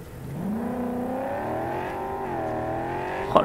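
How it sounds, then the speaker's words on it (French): A car engine revving in the video game Cyberpunk 2077, a steady close drone whose pitch climbs and then holds, dips slightly and rises again, ending in a short sharp burst. "Oh, le bruit du moteur"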